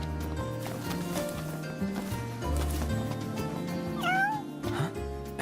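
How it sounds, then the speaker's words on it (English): Cat meowing in Final Fantasy XV, several clear meows over a steady game soundtrack with background music and ambient tones. "Hey, you're the cat we saw in Galden."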